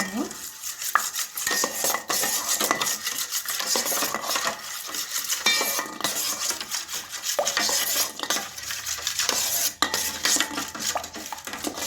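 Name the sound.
stirring oil and yeast together in a bowl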